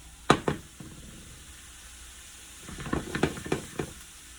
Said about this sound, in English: that's just going to saute down